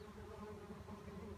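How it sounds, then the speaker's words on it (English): Carpenter bees buzz outdoors on a spring day, a faint, steady droning hum with slight wavering pitch, heard alone for a brief moment. "Just like the carpenter bees are here."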